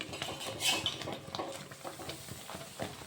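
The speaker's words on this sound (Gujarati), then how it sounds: "હલાવતા જઈશું અને ઘી રેડતા જઈશું" Spoon or ladle scraping and clinking against a pan as gram flour Mysore pak is stirred over a fast gas flame while ghee is poured in, a steady run of close metallic scrapes and taps with a brief sharper clatter.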